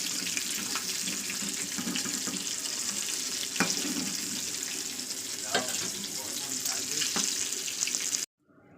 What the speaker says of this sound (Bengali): দেখতেই পাচ্ছেন আমার মাছগুলো ভাজা হয়ে গেছে